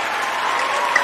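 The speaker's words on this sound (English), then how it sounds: "Let me give you a round of applause first." A brief, steady burst of audience applause, dense and even throughout, with no talk over it.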